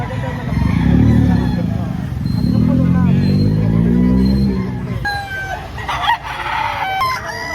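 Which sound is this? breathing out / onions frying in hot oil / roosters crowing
roosters crowing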